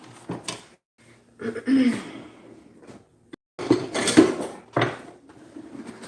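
Attachments clunk and rattle on a Bosch stand mixer as the paddle is swapped in while baking sourdough sticky buns, several metallic knocks and scrapes in short bursts with faint talk between.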